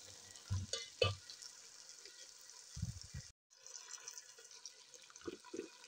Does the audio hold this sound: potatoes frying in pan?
yes